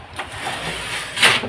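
A motorcycle engine cranks over and catches in a brief rough burst near the end, over faint background noise.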